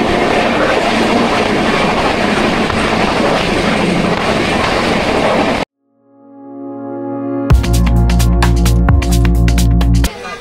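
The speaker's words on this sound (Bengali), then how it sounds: "এখন একটু আগেই বিফোরে ট্রেন মানকর স্টেশন এসে পৌঁছলো" A train pulls into Mankar station with a loud, steady rumble of rolling wheels up close, then cuts off abruptly; after a short quiet gap, sustained tonal sounds with sharp clicks take over.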